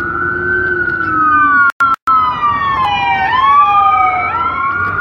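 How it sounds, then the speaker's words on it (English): A wailing ambulance siren sweeps up and down as it passes nearby, loud and close, with the pitch shifting downward as it goes by, briefly cut out once. "We're going to let this ambulance pass by."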